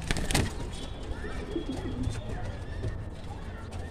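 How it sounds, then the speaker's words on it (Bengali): Pigeons in a loft cooing low and soft, mixed into a busy backdrop of rustling, wing noise and chatter from other birds, with a person talking nearby. "এই হচ্ছে বন্ধুরা পায়রা"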